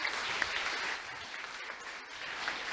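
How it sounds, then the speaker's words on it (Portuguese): Sustained audience applause after a Laravel ecosystem tech talk fills the room at steady, moderate loudness, dipping slightly midway and swelling again, with no voices over it. "Show, salva de palmas."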